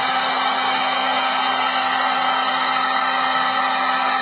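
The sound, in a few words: heat gun blowing hot air on vinyl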